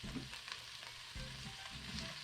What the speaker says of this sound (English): get that going on, fry it in olive oil